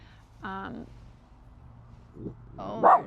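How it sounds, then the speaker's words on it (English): A dog barks twice, sharp and fairly close, with a short gap between the barks and a quiet room around them. "Are you barking at the neighbor?"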